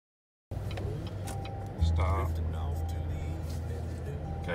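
A 2015 GMC Denali 1500 pickup launches in a 0-60 run. A low engine rumble swells sharply about two seconds in and holds steady and close, with brief voices over it.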